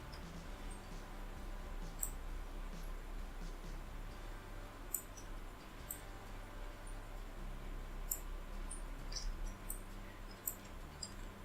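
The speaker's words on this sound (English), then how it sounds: "I'm using a keyboard shortcut Ctrl J to create a copy of those shapes." Computer keys are pressed for shortcuts during a Photoshop design session, a few faint scattered clicks and taps spaced irregularly over a quiet, hum-filled background, with no speech.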